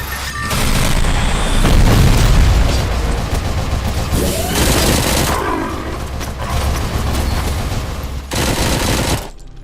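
Loud, sustained machine gun bursts and booming explosions from the RoboCop video game on PS5, a dense barrage of rapid fire and heavy blasts that carries on almost without pause.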